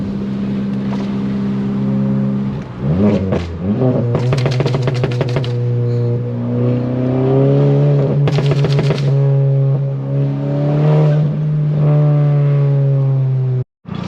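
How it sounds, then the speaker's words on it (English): Volkswagen GTI with a muffler delete, its loud exhaust droning and revving from inside the car, with rapid crackling pops on throttle lift-off in two distinct bursts, no voices. "the muffler delete, I bought the car like that. It's just too loud in my opinion."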